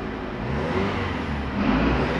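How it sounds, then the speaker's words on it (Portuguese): A Fiat Uno Attractive, whose engine has a misfire fault, idles steadily just after starting, a continuous mid-pitched hum with a slight rise in revs near the end and no talking. "Prontinho, o carro pegou bonitinho."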